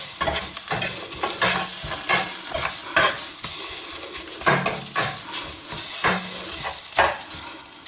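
Ingredients stirred in a hot pan for a Moroccan-style chicken dish, with continuous loud sizzling and frying and repeated scraping strokes of a utensil against the pan, close up and with no talking.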